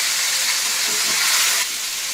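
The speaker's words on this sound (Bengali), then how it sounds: "এবার এই তেলের মধ্যে আমি চিকেনগুলো ভেজে নিব।" Chicken pieces frying in hot oil left over from frying potatoes give a loud, steady, close hiss that stays even and unbroken for the whole stretch, with no talking.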